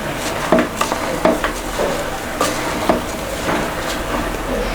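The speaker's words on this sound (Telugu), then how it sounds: "రైస్ వేసాక బాగా కలుపుకోవాలి." Rice being stirred into a vegetable biryani inside a pressure cooker, with a run of scraping, clinking strokes of a spoon against the metal pot over a steady low background.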